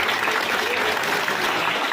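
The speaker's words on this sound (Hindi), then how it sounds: "एक बार जोरदार तालियां हो जाए" An audience at a BJP candidate's campaign gathering for auto workers breaks into loud, dense applause that holds steady throughout, with faint voices mixed in.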